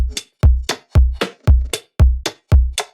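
A loud, close dance-track drum loop in which deep, booming kick drums alternate steadily with crisp offbeat percussion hits, making a tight, driving pattern with no voices.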